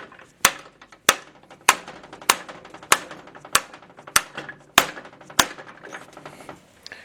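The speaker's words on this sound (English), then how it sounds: "you can get on there and tap all around it with a hammer" A hammer taps a bearing driver on an SM465 transmission in sharp, evenly spaced metal strikes, about one every half second, each ringing briefly before the next blow.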